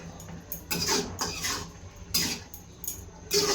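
Jute greens being stirred in a metal cooking pot with garlic and ginger paste, with a few separate clinks and scrapes of a utensil against the pot, spaced irregularly and moderately close.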